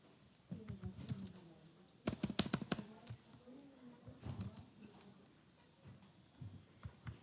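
Rapid bursts of keystrokes on a computer keyboard as a prompt is typed, quiet and close, with clustered clicks and brief pauses between words.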